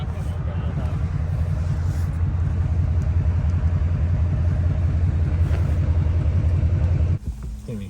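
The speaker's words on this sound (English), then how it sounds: "Can't even hear my truck compared to those diesels." Diesel truck engines rumble close by at a steady, loud idle, with a deep low throb that continues throughout before dropping off abruptly near the end, heard after a snowmobile trail ride.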